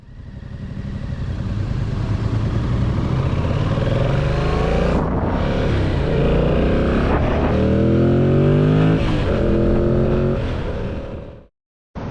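A motorcycle engine roars steadily at close range while riding on a road during a commute, pitch rising and falling with gear changes, before cutting out near the end.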